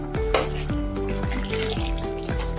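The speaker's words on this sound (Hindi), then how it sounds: "अभी इसको हम अच्छे से और से हिला देंगे ऐसे" A spoon stirring potato kofta curry gravy in a pan, with a steady sizzle underneath and a series of repeated scraping sweeps, close by and without talk.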